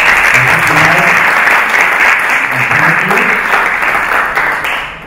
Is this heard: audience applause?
yes